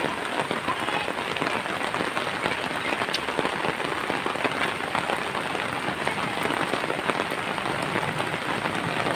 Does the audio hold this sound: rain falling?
yes